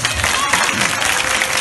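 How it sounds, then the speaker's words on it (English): Round of applause from a worship audience after a prayer on a Jamaican gospel TV show: dense, steady clapping with some voices mixed in. "If you believe the Lord heard that, give him a round of applause."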